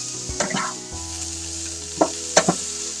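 A cut vegetable sears and chars in oil in a hot pan, a continuous sizzle broken by a few sharp spattering pops and scraping stirs, close and loud with no one talking.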